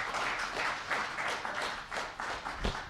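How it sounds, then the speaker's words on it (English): An audience at a multi-faith devotional tribute gathering gives a warm round of applause for a presenter: a steady, moderately loud wash of many hands clapping with gentle surges, no voices over it. "So another big hand of applause for Manav"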